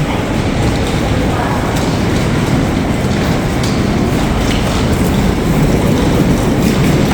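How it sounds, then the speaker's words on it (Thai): Inside Hongik University rail station in Seoul on the airport line, a train's steady rumble and rolling clatter fill the space, loud and continuous, with people talking underneath. "ตอนนี้อยู่ที่สถานีรถไฟฟ้าฮงอิก เป็นสถานีรถไฟที่จะไปสนามบิน"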